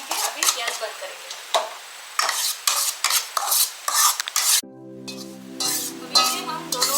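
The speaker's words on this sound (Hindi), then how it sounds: "अभी हम ये रवा और वो भुना हुआ बेसन इन दोनों को मिला देंगे।" Roasted besan and semolina being stirred together in a pan for besan laddu, giving repeated scraping and stirring strokes up close; partway through, a brief tonal beep sounds and the stirring carries on.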